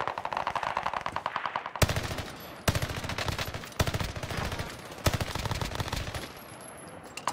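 Automatic gunfire in a shooter video game rattles off in several rapid bursts, with short gaps between sharp volleys, with no talk over it.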